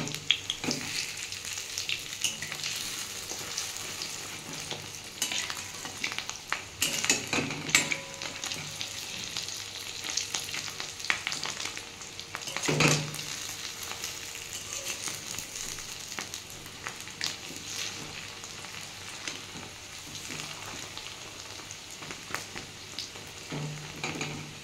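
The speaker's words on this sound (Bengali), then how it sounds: "আমার ডিমগুলো দেখুন দু পিঠই ভাজা হয়ে গেছে।" Fish roe cakes, mixed with soda, fry in a pan, making a steady moderate sizzle with scattered crackles and occasional utensil scrapes as they are flipped, no talk.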